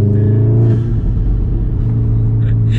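Intake roar of a VW Golf R accelerating, a loud low rumble heard from inside the car, steady throughout.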